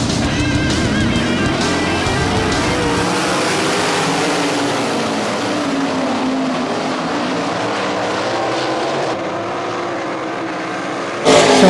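Several sprint cars roar around Ohsweken Speedway during an eight-lap heat race, engines loud and continuous with shifting pitch as the pack passes, and a sharp burst of noise near the end.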